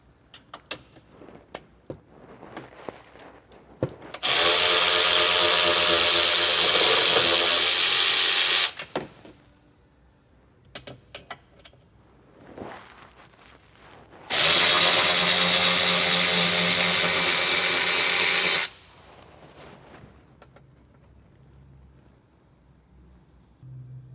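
Two long bursts of a power tool back out E12 bolts on a 2019-or-later Sprinter van, each a loud steady whir lasting several seconds, separated by quieter clicks and handling noise.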